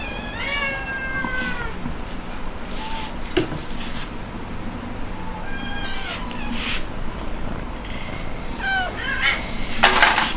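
Several restless cats meow repeatedly while waiting for food, with overlapping near and mid-distance calls over a steady room hum and occasional clatter.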